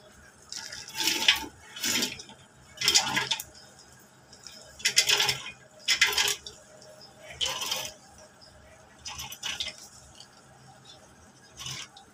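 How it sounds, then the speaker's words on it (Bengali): Dry lentils being tipped into a pot of browned masala for Bangladeshi khichuri, giving a series of close, crisp rattling and pattering bursts at irregular intervals, each about a second long, with faint kitchen clatter between. "তো এখন আমি ডালগুলো দিয়ে দিচ্ছি।"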